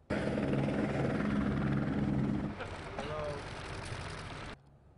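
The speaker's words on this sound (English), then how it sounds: "dropping down via helicopter in a field high above St. Vincent College" A helicopter comes down in a field on a hillside, its loud rotor and engine roar filling the air before easing slightly as it settles, with a person's voice faintly heard over it.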